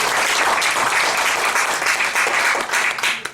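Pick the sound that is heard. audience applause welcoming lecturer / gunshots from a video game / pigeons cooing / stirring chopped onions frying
audience applause welcoming lecturer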